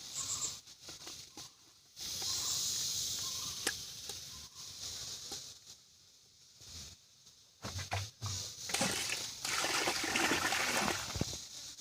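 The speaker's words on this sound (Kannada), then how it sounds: "ಇನ್ನೂ ತೆಳು ಮಾಡ್ಕೋಬೇಕಾದ್ರೆ ನೀರು ಹಾಕ್ಕೊಂಡು." Water is poured into a jeevamrutha mix made with gram flour, giving a splashing, trickling rush in several bursts, faint but close, with brief quiet gaps between pours.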